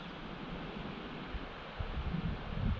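Wind buffeting a microphone outdoors at an RV stop in Oregon, a steady broadband rush with low gusty thumps that grow stronger toward the end, with no voices.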